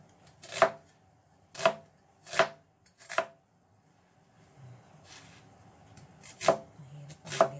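A kitchen knife slices through onions on a cutting board, giving six crisp, close, separate chops in two groups with a short quiet pause between them.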